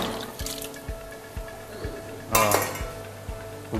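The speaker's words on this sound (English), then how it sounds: "Then after the tomato is done, we shall have to wash well our plate." Washing a plate with water sounds like repeated light knocks and clinks of dishware in a regular rhythm, with a short splash or rush of water midway, close and fairly quiet.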